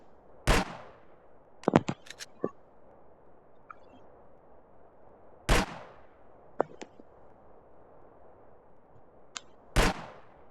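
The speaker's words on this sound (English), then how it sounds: "So when I shoot there, as you see this shows that my bullet is going through." Sharp gunshots fired in a shooter video game, three loud single reports spaced several seconds apart, with fainter clicks and small impacts between them and no talk.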